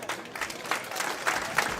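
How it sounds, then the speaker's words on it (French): Audience applauding a cash donation at a ceremony: mid-distance crowd clapping with uneven bursts and a few louder individual claps, continuing steadily. "Merci d'applaudir"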